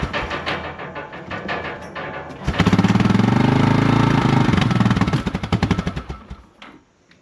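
A Yamaha Big Bear 350 ATV engine on choke cranks with rapid uneven pops, catches into a loud rattling idle for a few seconds, then sputters and dies out.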